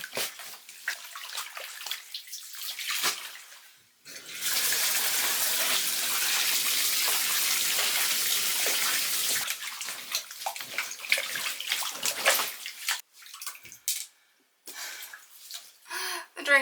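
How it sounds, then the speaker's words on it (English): Soaking-wet clothes are washed by hand in a bathtub, producing a steady, close gush of running water with splashing and sloshing, which breaks off into wet handling noises and brief gaps. "So now I'm doing it in the bathtub because they're already soaking wet and full of water"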